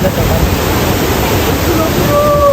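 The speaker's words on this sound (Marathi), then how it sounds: "धबधबा एक नंबर कसला वावतो यार" A loud, constant rush of falling water from a nearby waterfall, broad and roaring, with faint voices mixed into the noise.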